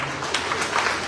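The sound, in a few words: applause, hand clapping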